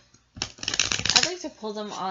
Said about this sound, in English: So I'm going to shuffle a little bit with the Queen of Pentacles in mind.